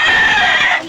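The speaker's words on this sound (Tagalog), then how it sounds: "may alaga silang ibon dito guys" A pet black bird lets out a single loud, close, drawn-out tonal call with a slightly fluttering edge, tapering off near the end, with no talking over it.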